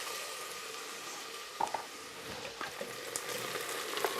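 Onions frying in a pan until soft and translucent for a Portuguese fish stew, a steady close sizzle with a few brief clicks of stirring.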